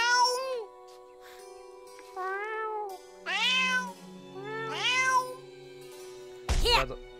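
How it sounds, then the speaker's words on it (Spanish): Cartoonish cat meows from the video game South Park: The Stick of Truth, five separate rising-and-falling calls spaced over several seconds, loud and close, with a low game tone droning beneath some of them. "Un gato de campo."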